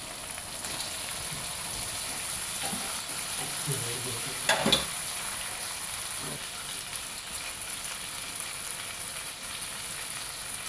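Potatoes fry in a pan with a steady, continuous sizzle, and a louder burst of stirring scrapes comes through near the middle. No one speaks.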